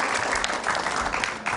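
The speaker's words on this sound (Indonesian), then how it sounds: "Tepuk tangan dong buat Inaya." Dense applause from a crowd at an Indonesian television talk show, steady and fairly loud throughout with no pauses.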